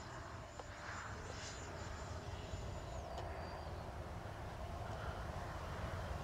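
An FMS Viper RC model jet, a 15-year anniversary edition on its re-maiden flight, roars steadily as it flies a climbing maneuver, with a continuous engine whine that sweeps lower midway and no talking.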